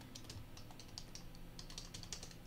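Fingers type a module name on a computer keyboard, a quick, uneven run of light clicking keystrokes close by, with a faint background hum and no voices.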